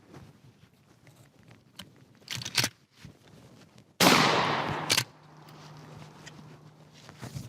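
Winchester 97 pump shotgun firing, a single sharp blast followed by a rumbling decay, preceded by metallic clicks and racking of the action, with a faint mechanical hum afterward.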